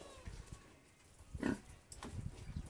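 Pigs grunting in a farm pigsty where sows have been attacking chickens, with a few low grunts and snorts scattered through the moment, one louder burst in the middle, amid faint background rustle.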